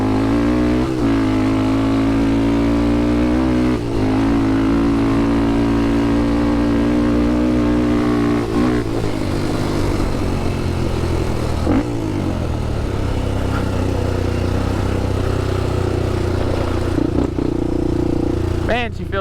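A 2007 Honda 400ex quad's engine revs and drones while riding dirt trails, a loud, close, continuous motor note that rises and falls through repeated throttle changes and gear shifts, with a voice speaking over it.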